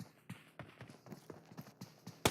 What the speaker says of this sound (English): You hear footsteps everywhere.